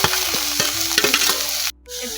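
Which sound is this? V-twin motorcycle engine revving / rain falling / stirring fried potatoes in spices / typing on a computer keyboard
stirring fried potatoes in spices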